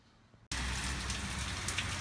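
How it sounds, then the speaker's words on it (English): Rain falls outside in a garden, a dense steady hiss of drops that starts abruptly after a quiet half second and continues evenly at moderate loudness, with no talking. "Well, it's raining out again."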